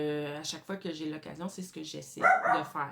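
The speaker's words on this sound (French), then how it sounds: "Excuse-moi pour mon petit chien." A small dog barks in quick yips near the end, loud over someone speaking French steadily throughout.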